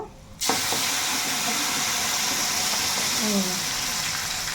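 Hot spice tempering poured onto cooked dal bursts into sudden loud sizzling hiss after a brief quiet start, then holds as a steady steamy rush with faint squeaky crackles.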